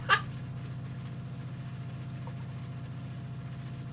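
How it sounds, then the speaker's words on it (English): A Class 68 diesel locomotive idling in Train Simulator 2020, a steady low, throbbing engine rumble with an even pulse, with a brief click at the start and no talk over it. "how loud the 68 engine is right now"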